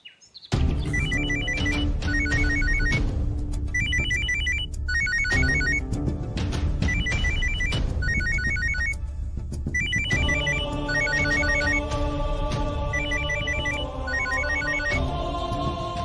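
A telephone rings over and over, with repeated bursts of bright electronic trills separated by short gaps, loud and close with no voices.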